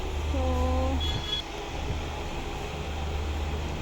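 A steady low rumble and hiss fill the inside of a nearly empty passenger train on the way to Goalpara, rolling along continuously, with a brief tonal whine early on and no one talking.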